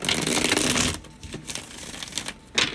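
A tarot card deck is shuffled up close in a dense rustling riffle, followed by softer, scattered card slides and taps, ending with one more brisk burst of shuffling.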